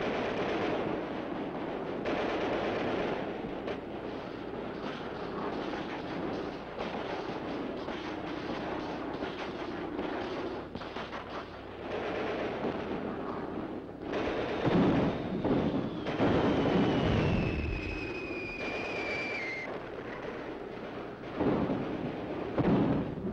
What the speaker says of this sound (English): Under cover of Russia's heavy artillery